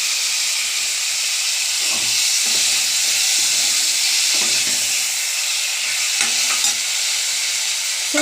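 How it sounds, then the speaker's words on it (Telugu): Tomatoes with turmeric fry in a pan, giving a loud, continuous sizzle and hiss up close, broken by repeated scraping and stirring knocks of a spoon. "పసుపు యాడ్ చేసుకున్న తర్వాత ఇంకా టమాటాలు యాడ్ చేసుకున్నాను."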